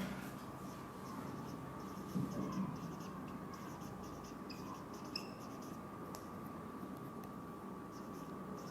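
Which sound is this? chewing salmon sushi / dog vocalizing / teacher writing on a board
teacher writing on a board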